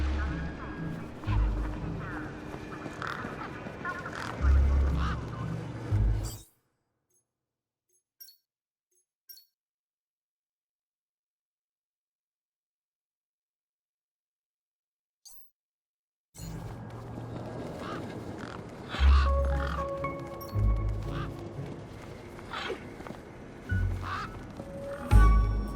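Large bird honking in the video game Beyond a Steel Sky, several loud goose-like honks near the start and again after a long silent gap, with a voice talking between them.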